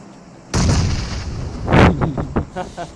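A grenade explodes in the PUBG Mobile battle royale game, a sudden loud boom that rolls on as sustained rumbling, followed by a second blast and a few fading pops near the end.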